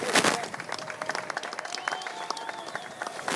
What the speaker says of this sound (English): A big round of applause to John Paddy